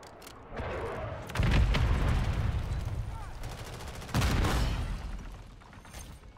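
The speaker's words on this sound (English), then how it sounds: "I'm gonna drop my VTOL right on the center of the hill here. Requesting close air." Two heavy booming blasts from a VTOL close air support strike in Modern Warfare 3, the first around a third of the way in and the second later, each followed by a rumbling tail over steady battlefield noise.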